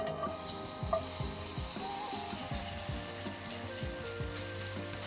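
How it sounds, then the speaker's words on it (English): Onions fry in a little cooking oil in a hot non-stick pan, a continuous close sizzle with repeated scraping strokes of a spatula stirring in a steady rhythm. "The pan is hot, and we'll put the onions in."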